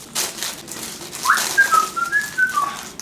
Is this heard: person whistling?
yes